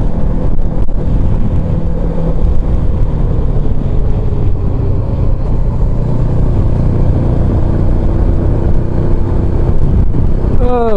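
A 472cc engine labours loudly up a steep grade of about 8% on the Cabot Trail after a downshift. The drone is steady and strained, mixed with wind noise.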